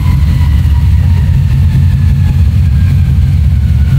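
A Volvo car engine runs steadily through a tuning session, a continuous loud low rumble with a faint whine above it and no talking, the revs holding fairly even throughout.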